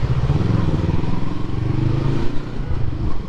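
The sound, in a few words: motorcycle riding through Hanoi Old Quarter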